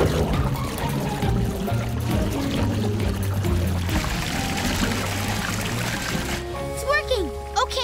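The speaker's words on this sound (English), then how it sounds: "let's fill up the tub with water" In an animated children's show, a bathtub fills with water as a steady pouring rush. It plays under lively character voices and music, ending with cartoonish effects.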